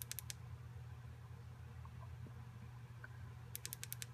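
Side switch of an Olight S30R Baton rechargeable LED flashlight clicked in two quick bursts, three crisp clicks at the start and a faster run of about five near the end, close and light over a steady low hum.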